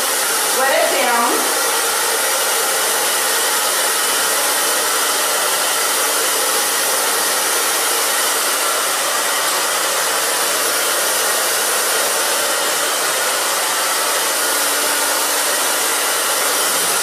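A handheld hair dryer blows steadily and loudly on a little girl's dampened hair, a continuous broadband whoosh that starts up at the opening and holds without pause, with no talking over it.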